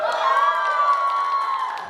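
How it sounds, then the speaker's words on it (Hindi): Crowd at a 50th wedding anniversary party cheering, hooting and clapping, a steady dense roar of whoops and applause throughout with voices mixed in. "इनके लिए कितनी हूटिंग और कितनी तालियां"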